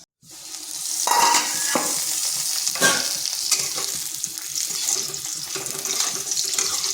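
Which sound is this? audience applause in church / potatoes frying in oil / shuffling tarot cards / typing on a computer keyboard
potatoes frying in oil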